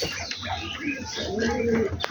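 Two pigeons flying and cooing softly in the background while a person talks over them, with light outdoor ambience throughout.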